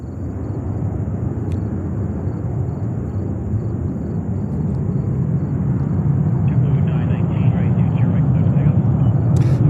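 An Air Canada Airbus A350 heavy on short final to land makes a steady, loud jet rumble and roar that builds slightly toward the end, heard alone without talk.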